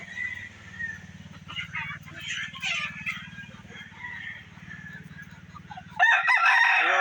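Gamefowl roosters and hens in a yard, with a steady low clucking and murmuring from the flock and a loud rooster crow bursting out near the end, close to the listener.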